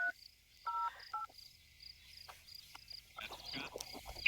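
Telephone keypad tones beep a few times in quick succession, close and clear, followed by faint rustling and handling noise on a phone at a national monument trail.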